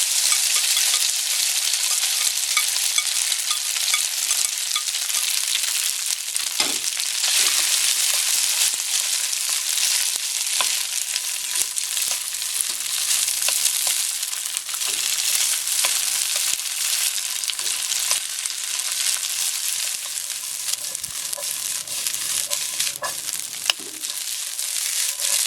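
Boiled spaghetti sautéing with garlic in a hot pan for carbonara, giving a dense, steady sizzle that runs unbroken throughout with a few faint clicks and no voices.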